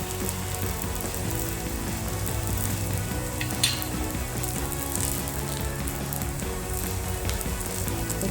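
Grated coconut sizzling in a pan on a gas stove for a Maharashtrian drumstick rassa bhaji, a steady close crackle of frying that runs evenly throughout with no voices.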